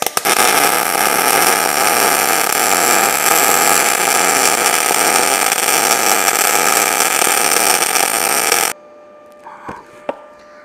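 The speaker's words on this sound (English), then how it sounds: "Pretty hot for that sort of weld." An Arc Captain MIG 200 welder runs a bead on 8 gauge steel, giving a loud, steady crackling hiss for about nine seconds before it stops abruptly, leaving faint handling noises.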